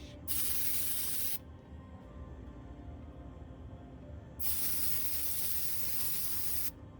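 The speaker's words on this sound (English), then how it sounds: "So I put that coloring in my airbrush." An airbrush sprays yellow Bombay ink in two sustained bursts of steady hissing air, each lasting over a second, separated by a quiet pause, with no talking.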